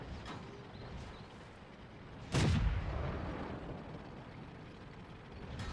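A single heavy boom from the FV304 self-propelled artillery gun in World of Tanks, one sharp blast followed by a fading rumble amid quiet mechanical background noise.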